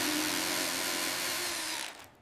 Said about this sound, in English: Oh no, now it's on the drill.